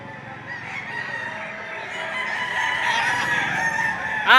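A young SBR gamecock stag crows at a livestock market in Padre Garcia, Batangas: one long, strained, harmonic call that rises in strength toward the end, set over a steady background of market noise.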